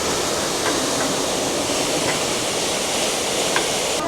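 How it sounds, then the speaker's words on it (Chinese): A powerful waterfall pouring through a cave in Enshi Grand Canyon, Hubei, a loud, constant broadband roar filling the whole space with no breaks and no voices. "這一座瀑布水流還是有點大，不過呢是在洞裡面過，"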